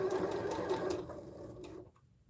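A sewing machine stitches a quilt block, humming close and steady for about two seconds before it stops.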